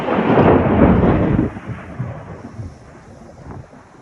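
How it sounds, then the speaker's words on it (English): Thunder rumbles loudly during a severe July thunderstorm, a deep heavy roll in the first second and a half that fades to a lower, distant grumble. "It's like the thunders all around."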